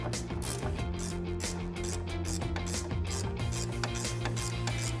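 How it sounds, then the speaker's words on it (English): Mechanical clicking and grinding of a ratchet loosening a 1/2-inch nut that holds an emergency brake to a car's control arms, steady and continuous with a low hum underneath, no talk. "we're gonna need to remove this nut. It's a 1/2-inch nut and it holds the emergency brake to the control arms"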